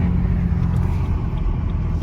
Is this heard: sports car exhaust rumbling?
yes